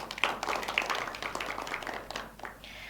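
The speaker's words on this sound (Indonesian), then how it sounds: "Boleh tepuk tangan kembali" Applause in a TV studio during a regional parliament dialogue forum: a short burst of light clapping from a small audience that tapers off after a few seconds.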